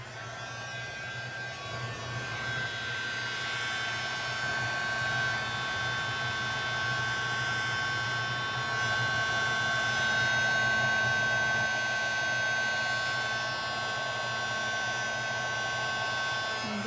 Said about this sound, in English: Okay, there's my heat gun.